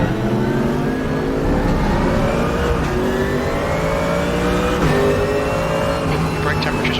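GT3 race car engine in the Raceroom racing game at Laguna Seca, a steady loud drone with rising gear pulls and shifts throughout, with a voice talking over it.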